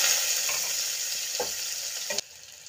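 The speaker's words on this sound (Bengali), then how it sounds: "আলুগুলোকে ভেজে নেব।" Potatoes fry in hot oil in a wok, giving a steady broadband sizzle with a few short stirring scrapes before the sizzle drops off abruptly near the end.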